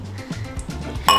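Glasses clinking together in a toast, a few soft taps followed by one bright, ringing clink at the end, close by and with no voices.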